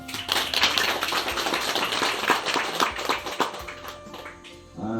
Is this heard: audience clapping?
yes